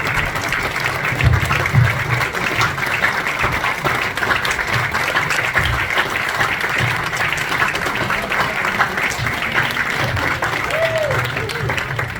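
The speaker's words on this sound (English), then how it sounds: "you guys deserve a standing ovation" Sustained applause from a crowd giving a standing ovation at an honors event, thick and steady for the whole stretch with a low murmur of voices underneath.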